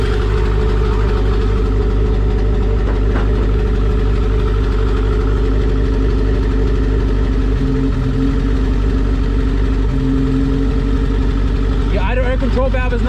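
A Honda Civic EG hatchback, being fabricated for a turbo setup, idles with a steady, loud, low mechanical hum and a constant rumble, with a brief shift in tone near the end.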